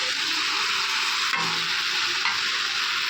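Grated coconut stirred in a frying pan, with a steady loud sizzle throughout and a brief scrape of the spatula partway through.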